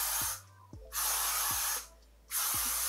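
Bursts of cheese spray hiss from an aerosol can, two long loud blasts separated by a short pause, close to the listener, with no voices.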